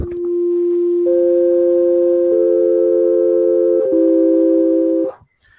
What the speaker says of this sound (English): there is a kind of sound called a sine wave